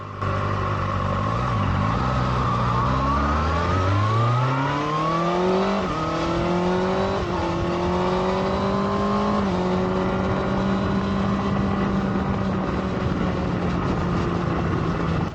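A 2024 Kawasaki ZX6R 40th Anniversary Edition motorcycle engine rumbles steadily and close, its pitch rising as the revs climb, then settling into a sustained drone with no talking.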